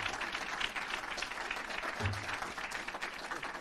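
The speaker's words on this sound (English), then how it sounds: "You can do a warmer clap than that." Audience clapping at a 30-year aviation celebration, a continuous wash of applause from a seated crowd, moderately distant and fairly quiet, with no speech over it.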